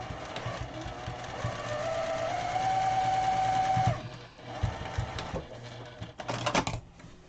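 A sewing machine stitches across a quilted Jordan Fabrics pillow top, its steady mechanical whir running fairly loud for about four seconds, then pausing into softer handling clicks and a few short bursts of stitching.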